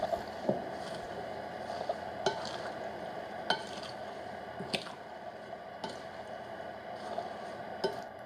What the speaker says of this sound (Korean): 완성된 양념장에 도토리묵과 상추와 깻잎을 넣고 잘 버무립니다.